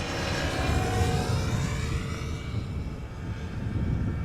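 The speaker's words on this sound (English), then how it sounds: "Now we are looking at a 777-300ER in the SkyTeam livery. It's coming this way" A KLM Boeing 777-300ER in SkyTeam livery approaching at Amsterdam Schiphol, bound for Vancouver, rumbling at moderate distance with a low steady roar and a faint descending whine that slowly fades.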